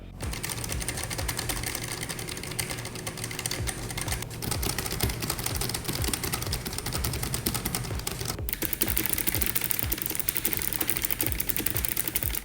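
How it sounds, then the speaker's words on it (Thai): Rapid, clicky typing on a Keychron K1/K5 wireless low-profile mechanical keyboard, steady and close, with sharp crisp clicks from blue switches and no voices. "เสียงในการพิมพ์ด้วยสววิตสีฟ้านี่มันคลิกกี้ จริงๆนะครับ"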